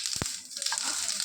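Mustard seeds sizzling in hot mustard oil for a tempering for kadale gasi: a brief, steady crackling hiss with a couple of soft pops near the start.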